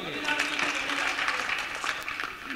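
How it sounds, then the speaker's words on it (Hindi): An audience claps for a Hindi comic poet at a hasya kavi sammelan, a dense continuous patter of applause filling the whole stretch, steady and fairly loud with voices mixed in. "जोरदार ताली इनके लिए"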